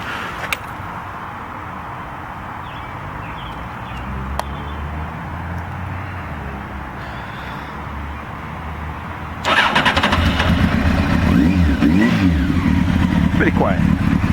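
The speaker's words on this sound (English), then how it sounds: "I'll turn on the bike." A 1999 Honda CBR 900RR motorcycle sits quietly before its engine starts abruptly partway through, then settles into a loud, steady idle that runs to the end, with a voice speaking over the earlier quiet stretch.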